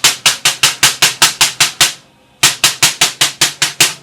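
Rapid, even drumstick taps on a snare drum head about an inch from the rim during tuning, close and loud, sharp and bright, in two runs split by a brief pause.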